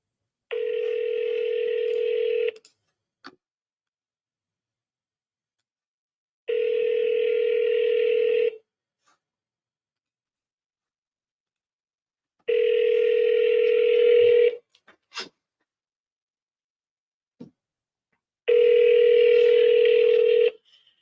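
Ringback tone of an unanswered outgoing cold call to a property owner in Houston, four long steady buzzing rings spaced by silent gaps, near and alone with no talk.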